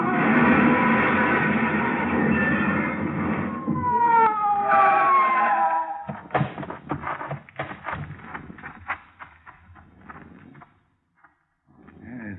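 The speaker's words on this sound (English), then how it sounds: "Whoever it was paid no attention to our siren" A police car siren wails loudly as a radio drama sound effect, its rising and falling tone sweeping for several seconds before giving way to clattering, crunching impacts that fade into near silence.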